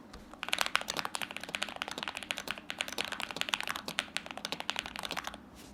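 Rapid, steady typing on a lubed ASUS mechanical keyboard, close up, with soft muted clacks in quick bursts and no voices.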